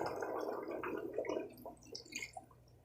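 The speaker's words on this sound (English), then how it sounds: "I also going to add some the broth mixture into this" Broth mixture pours with a wet, gurgling splash into a pot of potato and green bean stew with sausage, a continuous liquid burble lasting a few seconds at close range.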